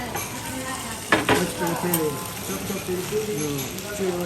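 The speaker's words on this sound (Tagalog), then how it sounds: "This is a beef Sizzling. sizzler, beef sizzler, pork sizzler." A beef sizzler hisses on a hot plate in a Chinese restaurant, a steady crackling sizzle with a sharp burst near the middle, while diners talk over it close by.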